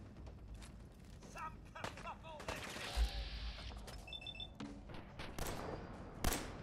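Gunfire in a wasteland-style video game: faint, scattered bursts of shots and mechanical clatter, low in the mix, with other game noises around them.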